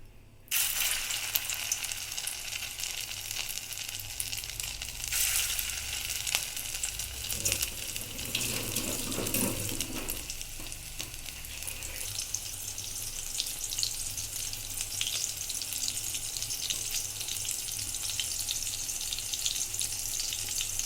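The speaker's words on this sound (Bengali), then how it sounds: "তেলটা গরম হয়ে গেছে, এবার বড়াগুলো দিয়ে দিচ্ছি এক এক করে।" Prawn fritters fry in hot mustard oil in a karahi, giving a steady, dense sizzle throughout that swells briefly as more fritters drop in, with no talking.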